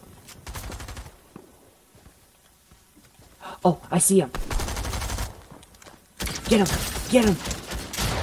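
Rapid bursts of gunfire in a battle royale video game crackle loudly in two volleys, with excited players talking over the shooting.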